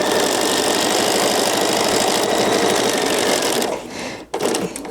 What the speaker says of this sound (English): I turn my fabric just a little bit, take 1 stitch, and then go to the other side.